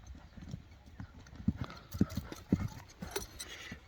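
Clip-clopping hooves of a racehorse at a horse sale and race event, with steady loud impacts falling about every half second amid faint background voices.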